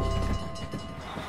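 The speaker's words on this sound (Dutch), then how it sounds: "Er komt een trein aan." A cartoon train rumbles past in the Dr. Panda TotoTime children's game, a brief, loud, steady rolling sound with no talk.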